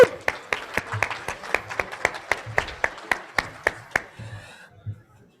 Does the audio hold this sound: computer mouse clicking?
no